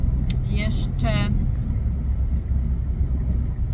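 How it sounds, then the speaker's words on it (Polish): A car cruising on a motorway gives a steady low road rumble and engine drone from inside, with a short burst of voice near the start. "tutaj jedziemy na autostradzie"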